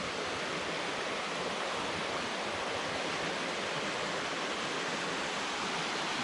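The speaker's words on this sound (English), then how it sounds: "all the water leaking off the bridge and dripping down." Water leaks off an old abandoned bridge in the woods and patters down below, a constant hissing wash of falling water that holds steady and fairly loud throughout, with no voices.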